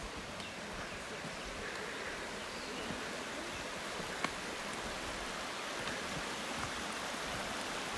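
Waterfalls on a river give a faint, steady, even rush of falling water heard from a distance, with no voices and only a few tiny clicks.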